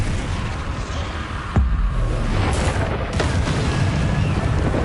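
A Bombarda blasting spell detonates in the video game Hogwarts Legacy, a sharp close boom followed by a sustained rumble in a busy combat mix, with no speech.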